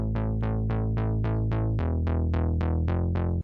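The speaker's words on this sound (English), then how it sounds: "So the bass by itself just sounds like this." Synth bass line in an ambient music mix, heard solo: a steady run of evenly spaced plucked notes with a bright decaying attack over a sustained low tone, shifting pitch midway, with no other instruments.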